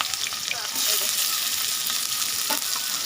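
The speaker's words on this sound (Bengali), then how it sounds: "পেঁয়াজ রসুন আগে ফার্স্টে ভেজে নেব।" Chopped onion and garlic frying in a pan give off a steady, close hiss of sizzling oil, with soft scraping stirs mixed in and a faint voice in the background.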